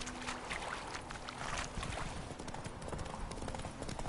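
Roach, Geralt's horse in The Witcher 3, trots along with brisk, even clip-clop hoofbeats close by, accompanied by a faint running-water ambience.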